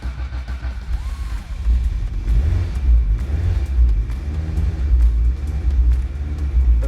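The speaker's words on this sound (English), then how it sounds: "here's our cold start" A rare black 1986 Ford RS200 S-spec with the 350-horsepower upgrade kit cold-starts in a basement, a deep, loud rumbling idle. The rumble swells after a quieter first second and then holds with uneven, throbbing pulses.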